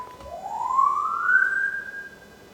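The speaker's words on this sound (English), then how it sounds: "That's the police sirens." A single police car siren wail rises in pitch and holds, clear and fairly close, with a faint sharp tap at the start and no talking.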